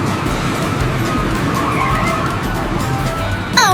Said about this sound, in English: Here's the bumper cars! Let's see who's the best driver!